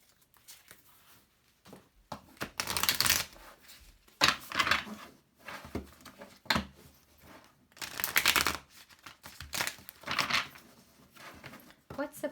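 Oracle cards being handled and shuffled in a love reading, with bursts of riffling and soft slapping at irregular intervals, close and fairly quiet.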